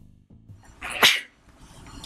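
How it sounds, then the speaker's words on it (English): A single sharp sneeze bursts out close by after a short inhaled build-up, loud against a quiet background with faint low sounds around it. "I'm sneezing and coughing"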